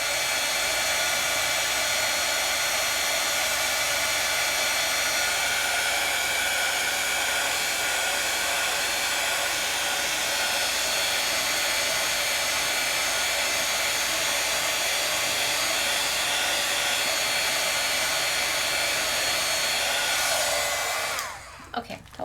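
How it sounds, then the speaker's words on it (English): A handheld heat tool blows hot air to dry watercolor paint on Gasen paper, producing a loud, constant whirring roar held for about twenty seconds before it shuts off abruptly. "keep your heat tool if you're wanting to make it dry a little faster"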